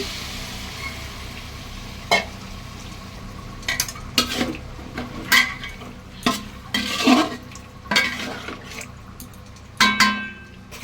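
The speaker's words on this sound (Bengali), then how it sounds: "ওই মাংস সেদ্ধ করা যে স্টুটা ওটা আমি দিয়ে দিচ্ছি।" Meat stock poured onto frying mutton for a mutton biryani, followed by repeated scraping and clanking stirs against the pot over a continuous sizzle, close and fairly loud.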